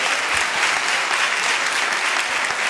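An audience at a sales training meeting claps in sustained, dense applause, steady and loud from start to end.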